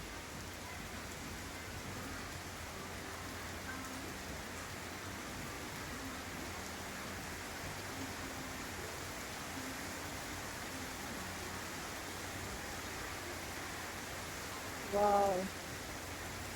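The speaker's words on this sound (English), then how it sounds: "This is serious rain, guys." Heavy rain pouring onto Negril beach in Jamaica makes a steady, dense hiss that fills the whole stretch. A voice briefly exclaims near the end.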